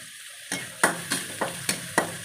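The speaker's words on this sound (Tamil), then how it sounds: "இது நல்லா பொன்னிறமாக வர்ற வரைக்கும் வதக்கலாங்க" Shallots and curry leaves sauté in sesame oil with a steady close sizzle. Regular stirring scrapes land roughly every third of a second.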